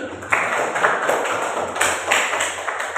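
A classroom of students claps for a classmate, with dense, steady applause that fills the room for several seconds.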